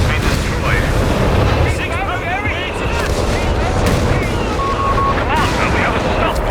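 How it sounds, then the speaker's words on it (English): Explosions and gunfire rumble as a Dingo recon vehicle is destroyed in the Company of Heroes 3 video game, a dense, loud, continuous battle din with whistling effects and game voice lines over it. "Dingo recon vehicle has been destroyed."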